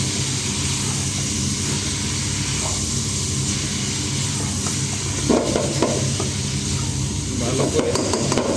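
Sliced potatoes and bitter gourd frying in a pan, a constant loud sizzle with scraping stirs growing busier toward the end; no speech over it.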